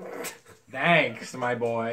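A dog whimpers in a high, wavering whine, close by, overlapping a voice speaking briefly.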